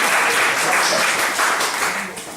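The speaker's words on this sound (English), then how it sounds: "if you think it was Jordan, give a round of applause" A student comedy crowd at a freshers' week show applauds in a dense, loud burst of clapping and cheering noise, close and continuous, tapering slightly at the end.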